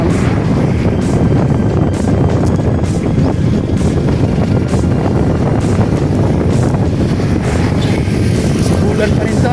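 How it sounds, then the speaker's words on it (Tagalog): Headwind buffets a cyclist's microphone, a loud constant rumbling roar of wind noise with occasional gusty bursts, no other sounds standing out. "Salungan tayo sa hangin."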